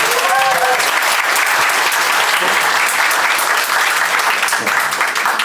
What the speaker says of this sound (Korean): 네, 박수로 맞아주십시오.